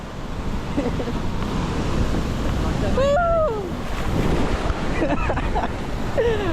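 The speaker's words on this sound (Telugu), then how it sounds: "సముద్రం కొంచెం తీవ్రంగా ఉంది." Rough sea waves roll onto a beach in strong wind, a steady loud surging roar with gusty wind buffeting the microphone and a few bird-like whistles over it.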